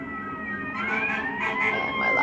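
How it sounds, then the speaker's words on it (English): A siren wails with rising and falling tones on a New York City street, growing a little louder over the short stretch, with a low traffic rumble underneath. "excuse the siren noise"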